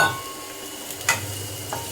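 Chopped onion hits a spoonful or so of coconut oil and fries with a steady, soft sizzle, broken by one sharp utensil clink and a fainter tap near the end.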